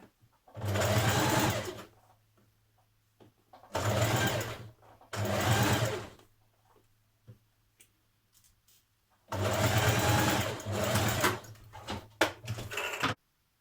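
A home sewing machine stitches a 1.5 centimetre seam on a Mimi blouse in three bursts, two short runs then a longer one, each with a steady whirring hum and quiet pauses between.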